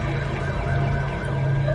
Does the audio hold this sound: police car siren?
yes